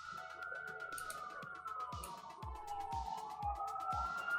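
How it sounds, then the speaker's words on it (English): Wailing police-type sirens drift in from a New York street outside a window, a sliding high tone rising and falling steadily for several seconds, moderately faint and distant over low room noise. "Here come the classic sirens out the window"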